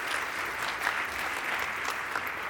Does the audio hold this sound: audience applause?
yes